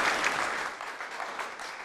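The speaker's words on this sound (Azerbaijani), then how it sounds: "Dostlarımıza alqışlayaq." Studio audience at a talk show applauding, a dense even wash of clapping that stays loud, then slightly eases off, with no voices over it.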